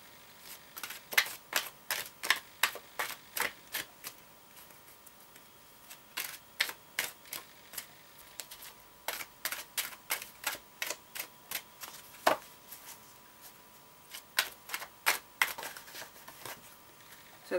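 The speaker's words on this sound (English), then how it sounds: "I'm just going to give this a quick shuffle and see what comes out for you." Oracle cards being shuffled by hand in bursts, crisp rapid riffles and flicks repeating in quick clusters with brief pauses between them, close and fairly quiet against a faint steady hum.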